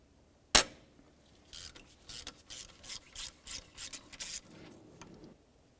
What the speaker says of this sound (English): Just get my 13 millimeter socket on this, try to break it free.